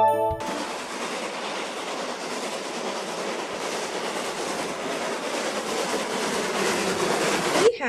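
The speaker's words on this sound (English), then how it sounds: "A train." A train rushes past close by, a loud steady roar of wheels on rails with faint clattering, cutting off abruptly at the end.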